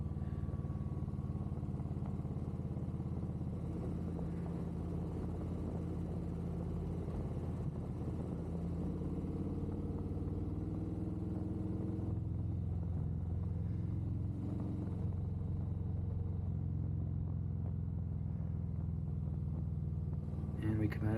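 A Harley motorcycle ridden across the Golden Gate Bridge on a wet road, its engine a steady low rumble mixed with wind noise throughout, while a voice talks over it.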